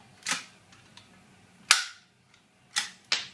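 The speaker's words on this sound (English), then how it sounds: "Bring up your plate and squeeze the trigger to collapse the rivet." A hand rivet gun collapses a rivet through a steel trunking lid, giving a few sharp, close metallic snaps with short ringing tails, spaced irregularly with quiet gaps between.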